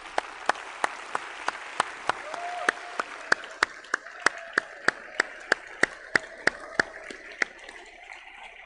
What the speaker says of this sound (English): please join me in giving each and every one of them a heartfelt and resounding round of